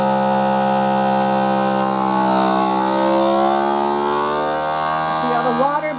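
A vacuum sealer pulls the air out of a bag of meat with a steady, loud motor whir and drone. The drone keeps a stable pitch and then shifts slightly near the end as the bag tightens.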